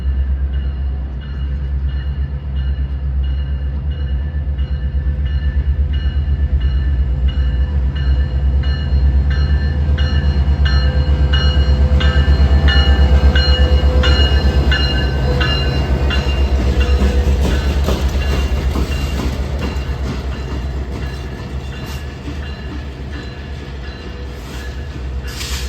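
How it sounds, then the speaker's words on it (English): Daily CPKC 255 freight train rolling past on the line near La Crosse, a long steady rumble of railcars and wheels with faint squeal and rhythmic clicking, loud and close throughout with no talk. "And that CP train in question would be the daily CPKC 255"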